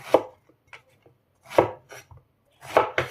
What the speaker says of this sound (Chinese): 丝瓜削好皮之后放到案板上面，我们给它改刀，都给它切成滚刀块